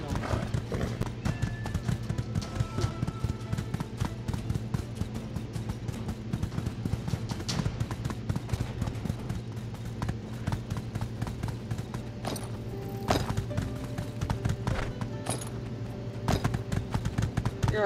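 Horse hooves running in the video game My Time at Sandrock, a steady rapid clip-clop that continues through the whole stretch at moderate loudness, with game sounds and an occasional neigh underneath.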